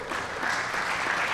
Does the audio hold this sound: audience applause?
yes